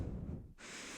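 A person imitates heavy breathing with one rough, noisy inhale that cuts off into a hissing exhale, close and fairly quiet.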